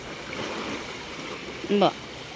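A village stream flows steadily as paper is washed in it, a continuous watery rush with a brief tonal squeak near the end.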